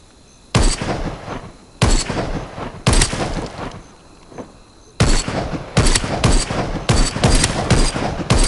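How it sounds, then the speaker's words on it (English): Bursts of gunfire from the zombie shooter game Arizona Sunshine crack out in loud, separate volleys, with quieter gaps between them and a rapid cluster of shots near the end. "I'm shooting him in the face, see?"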